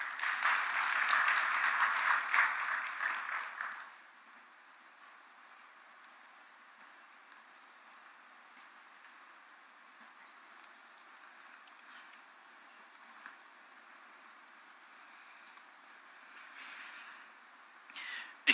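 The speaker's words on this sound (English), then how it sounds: "let's give him a round of applause" Audience applause at the COMESA Business Forum in Kenya: a dense wash of clapping for about four seconds that fades quickly, leaving a quiet hall with faint rustles.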